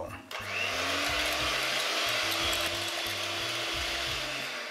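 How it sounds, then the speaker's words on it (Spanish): An electric mixer beats margarine muffin batter flavored with lemon zest, producing a close, loud motor whir with rhythmic low pulsing and slight pitch shifts. "Echamos y batimos de nuevo."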